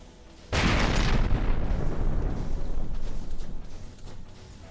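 Ship guns in From the Depths firing in a heavy, booming volley, a sudden loud blast followed by several seconds of rumbling, crackling follow-up shots that slowly fade.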